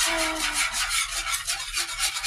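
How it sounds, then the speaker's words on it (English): A continuous metallic scraping and rasping, like a whisk dragged rhythmically around a pan, steady and fairly close with no speech. "Sorry if that noise bothers you. I don't have a rubber whisk. I just have a metal one."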